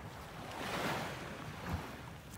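Ocean waves wash onto a beach in North Naples, Florida as the tide comes in, a soft broad rushing surge that swells and recedes with light wind noise.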